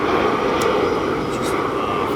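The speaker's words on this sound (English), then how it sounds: "So you're about to have another plane fly over" A fixed-wing airplane flies over an outdoor car-washing spot, giving a steady broadband jet-like roar that stays loud and even throughout the short stretch.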